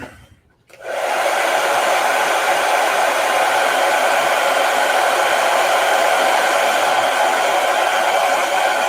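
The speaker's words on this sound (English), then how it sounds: "Now let me hit this with a blow dryer." A blow dryer switches on after a brief near-silence and runs steadily and loudly up close, a continuous broadband whoosh with a faint motor hum, used to dry paint on a zombie conquistador miniature; no voices.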